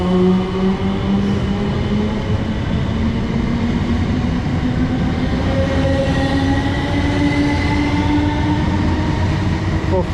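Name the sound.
train arriving at station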